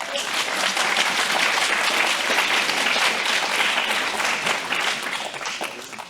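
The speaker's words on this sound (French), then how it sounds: "qu'on peut applaudir" An audience at a painting competition claps for a painting workshop's entry, a continuous, fairly loud round of applause that tapers off near the end.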